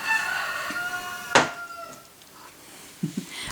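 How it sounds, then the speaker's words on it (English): A rooster crows in the distance, its drawn-out call fading, followed by a few softer clucks. "that bloody rooster drives me insane"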